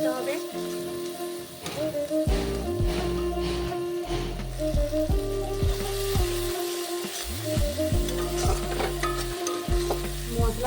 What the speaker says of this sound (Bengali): মশলাকে খুব ভালোভাবে কষিয়ে